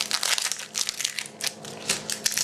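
Knife slicing through an onion on a cutting board, with rapid, crisp crunching cuts in an uneven rhythm close by, alone with no voices.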